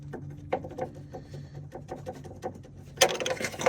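A wrench ratchets a nut tight on an AC line of a 2008-2012 Ford Escape with a 3.0L V6, giving quick close metallic clicks in short bursts, ending in a louder sharp clank.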